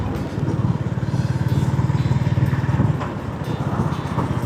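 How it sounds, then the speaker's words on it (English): A Honda H'ness CB350 350cc motorcycle cruises at low RPM in fifth gear at about 50 km/h, its engine giving a steady, close, even low thump that carries on throughout. "Now we are at 50 kilometers per hour at 5th gear. It is doing very low RPM."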